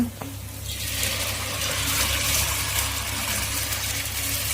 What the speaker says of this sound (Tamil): இப்போ நம்ம கரைச்சி வச்சுருக்கிற புளி தண்ணி வந்து இதில் ஊற்றிக்கலாங்க